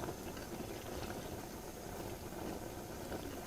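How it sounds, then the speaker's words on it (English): A pot of stew with wine boils outdoors beside Namtso lake on the high plateau, giving a dense, steady bubbling and rumbling texture that stays even and fairly close throughout. "I'm letting it to boil"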